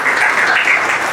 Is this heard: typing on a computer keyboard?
no